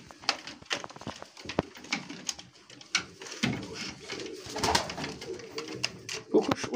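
Pigeons coo in a loft with breeding birds, soft throaty calls rising and falling close by amid rustling, wing flutters and scattered knocks, with someone talking at times.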